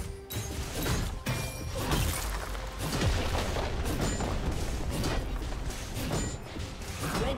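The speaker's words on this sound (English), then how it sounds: "Red team's turret has been destroyed" Turret destroyed in League of Legends, a dense rumbling barrage of crashes and booms layered with game battle effects, loud and continuous for several seconds.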